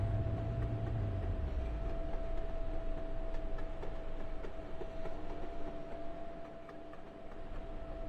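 A tram in a Roblox game pulls slowly out of its depot onto the route, giving a steady low rumble with a faint electric whine and light rhythmic clicking, continuous and moderately loud, with no voices.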